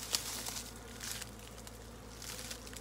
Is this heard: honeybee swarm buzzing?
yes